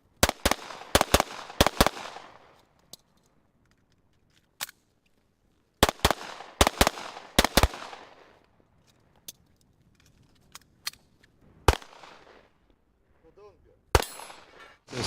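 Sharp gunshots at an outdoor range during practical shooting training, fired in quick clusters of two to four with short ringing tails, separated by quiet gaps and a few single shots.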